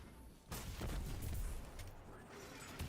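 Heavy weapon fire from a Bronto cannon in the shooter game Destiny 2, a loud sustained burst of booming, crackling blasts that starts abruptly after a short quiet lead-in and rumbles on to the end.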